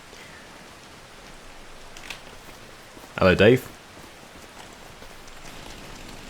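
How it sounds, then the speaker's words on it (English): Light drizzle in the Farming Simulator 25 game world on a foggy morning makes a steady, even hiss of falling rain, with a short spoken greeting breaking in near the middle. "it is drizzling as well"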